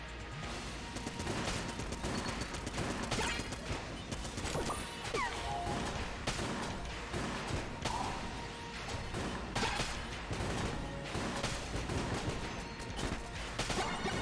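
Gunfire in the twin-stick shooter Exit the Gungeon rattles through a dense, busy game mix, with crashing impacts and whooshes layered over steady, loud action for the whole stretch.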